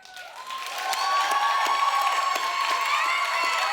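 A studio audience at a television dating show bursts into a round of applause and cheering that swells quickly and holds as steady, dense clapping.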